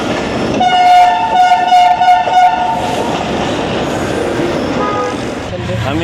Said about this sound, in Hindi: हमें क्रॉस करेगी मलीर रेलवे स्टेशन पर 48 डाउन रहमान बाबा एक्सप्रेस